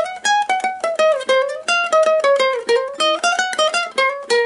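A fast, plucked ukulele melody, with bright, crisp notes in quick succession, played solo and close up with no voices.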